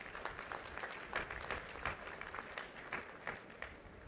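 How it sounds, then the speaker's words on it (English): Audience applause at a Guru Gobind Singh IP University convocation ceremony in Dwarka Sector 17, Delhi, a steady, moderately distant patter of many hands clapping that continues evenly throughout. "So a big round of applause to all of you."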